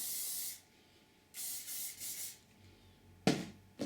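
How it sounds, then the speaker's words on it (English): Hairspray hisses onto hair roots in several short bursts separated by quiet gaps, followed by faint rustling and a sharp final burst. "hairspray the root at the"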